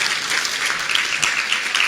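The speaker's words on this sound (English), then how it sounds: "applaud all these people who've supported you in your" Audience applause at a medical school graduation ceremony, honouring the graduates' supporters; a steady, dense burst of many hands clapping throughout, fairly loud and unbroken.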